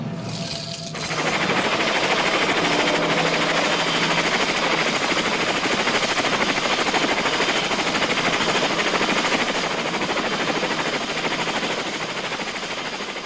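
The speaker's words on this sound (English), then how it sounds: "Helicopters spray the jungle on both sides of the river." A loud, continuous rotor drone with rapid chopping texture fills the scene throughout, like a helicopter close overhead.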